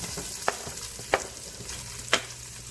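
Chopped celery and onion go into a pot still holding browned bits from seared meat for a Southern pot roast, giving a steady low sizzle broken by three sharp clatters of stirring.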